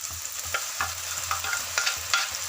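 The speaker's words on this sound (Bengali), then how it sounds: "পেঁয়াজ বাটাটা ভাজা প্রায় হয়ে এসছে।" Garlic stirred into onion paste frying in a pan, with a continuous soft sizzle and repeated scraping strokes of a spoon at an irregular rhythm, close and without talk.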